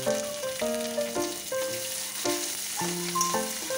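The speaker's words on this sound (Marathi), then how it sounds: "कांदा तळून घ्यायचा." Onion fries in a pan with a soft, steady sizzle, partly under a melodic instrumental music track that carries through the whole stretch.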